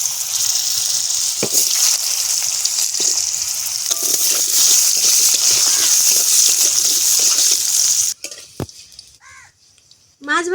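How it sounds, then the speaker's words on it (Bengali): Potatoes frying in oil left over from frying fish in a village kitchen, a steady loud sizzle and crackle for most of the time, then cutting off near the end to leave brief clatter and a few distant bird calls. "মাছ ভাজা তেলে দিয়ে দেব আলু,"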